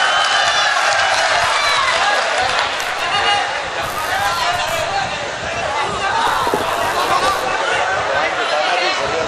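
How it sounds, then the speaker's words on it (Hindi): An audience at a mushaira poetry gathering during an Urs claps and cheers in welcome for a poet, a steady wash of applause mixed with crowd chatter and voices. "जनाब सज्जाद झंझट, ज़ोरदार तालियों से इस्तक़बाल उनका कीजिए"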